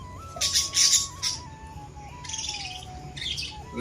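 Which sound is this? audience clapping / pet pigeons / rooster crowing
pet pigeons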